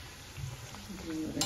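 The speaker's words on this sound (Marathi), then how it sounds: "अशा प्रकारे दोन्ही बाजूंनी छान ब्राउन कलर येईपर्यंत आपण ही पुरी फ्राय करून घ्यायची आहे" Pumpkin puri frying in hot oil, a quiet steady sizzle and bubbling that stays soft throughout, with a small splashy burst at the very end.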